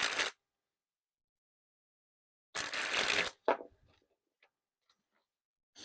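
Grimmlore Tartan playing cards by Art of Play springing from hand to hand, two sharp bursts of rapid riffling flutter, one at the start and one longer, followed by a few faint clicks in near silence.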